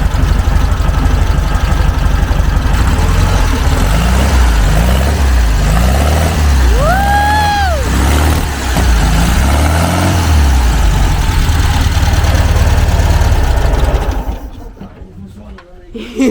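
A Volkswagen Fusca (Beetle) engine runs smoothly at idle, a loud, steady air-cooled chug with a rhythmic low pulse, and a brief rising whine joins midway before the sound drops away near the end.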